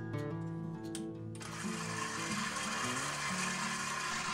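Stand mixer kneading bread dough for tear-and-share garlic bread on its slowest speed, a steady close motor whir and hum that turns louder and rougher partway through, with no talking.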